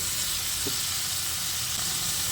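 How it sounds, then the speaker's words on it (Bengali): Spice masala for Bengali egg curry frying in oil in a pan, a loud, steady, dense sizzle and hiss close up, with no talk. "মশলাটাকে খুব ভালো করে আবারও কষিয়ে নেব অল্প অল্প জল দিয়ে দিয়ে মশলাটাকে আমি ভালো করে কষিয়ে নিয়েছি"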